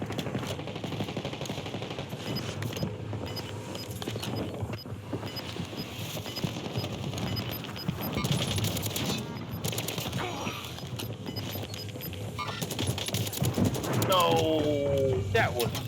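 Rapid gunfire in the shooter game Warzone, repeated automatic bursts and single shots at moderate distance under steady talking, growing louder toward the end.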